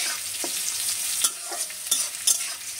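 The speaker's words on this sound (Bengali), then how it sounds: "এবার ভালো করে একটু নেড়ে নিয়েছি।" Carrots and spices frying in a pan while being stirred, a soft continuous sizzle punctuated by three or four sharp scrapes of a spatula, close and brief.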